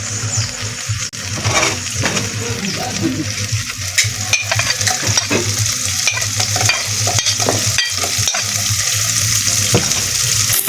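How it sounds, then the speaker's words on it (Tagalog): Garlic and onion sauté in a hot pan, a continuous loud close sizzle with steady stirring scrapes running throughout, no talk over it. "ginisa na po ni Tita Nini yung bawang at sibuyas"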